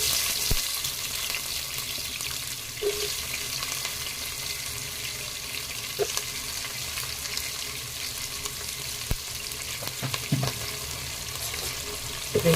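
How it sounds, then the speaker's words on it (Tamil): Sliced big onions for chicken biryani sautéing in a pan, a continuous hiss and sizzle with a few faint stirring knocks, steady and close. "வெங்காயம் நல்லா வதங்கணும்"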